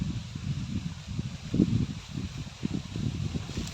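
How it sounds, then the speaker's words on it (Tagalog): Gusty wind blows outdoors, rumbling low and steadily against the microphone, strengthening in uneven surges with a stronger push around midway. "Medyo lumalakas yung hangin."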